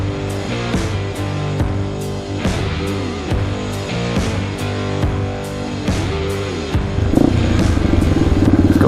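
A Yamaha TTR230 dirt bike rides along a trail, its engine buzzing steadily close by with rhythmic surges and clattering bumps, rising in revs near the end.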